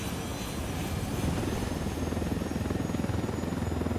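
Helicopter in the video game Ghost Recon Wildlands, a loud, steady rotor roar with rapid rhythmic blade chopping, close and continuous without talk.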